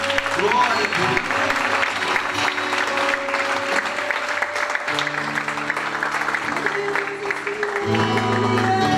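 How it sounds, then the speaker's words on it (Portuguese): A church congregation applauds during a worship service, sustained crowd clapping with musical tones and some voices underneath. "Aplaudir mais uma vez."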